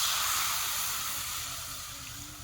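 Water poured into a frying curry sets off a loud broad hiss of steam and sizzle, close and continuous, slowly fading.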